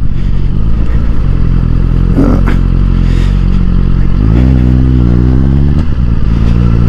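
Suzuki GSX-R1000R sport motorcycle on a ride out around Horning on the Norfolk Broads, its engine droning steadily close up, then revving up in rising pitch before easing off, with wind and road noise throughout.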